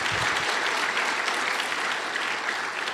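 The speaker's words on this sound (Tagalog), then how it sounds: "Pakilakas yun naman yung palakpak nyo." A church congregation applauds in a steady burst of clapping that fills the room, with little else heard.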